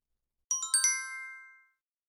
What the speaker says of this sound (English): Whose phone is that ringing?